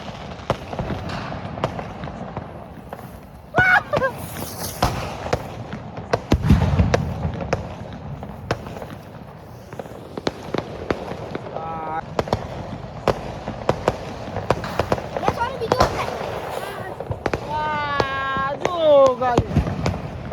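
Ground rocket fireworks go off during a Diwali celebration, with sharp bangs, crackles and rising whistles, close and loud. Voices talk and call out throughout.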